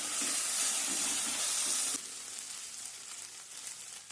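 Chili powder sizzles in hot oil for a country chicken curry, a steady close frying hiss that drops to a quieter crackle halfway through as it settles.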